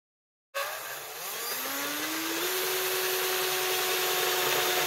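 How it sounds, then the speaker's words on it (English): A power driver sinks a self-tapping screw into leftover metal roofing for a garden planter, starting abruptly from silence into a loud, steady whine whose pitch climbs and then holds as the screw bites. "just use the self-tapping screw to screw them together"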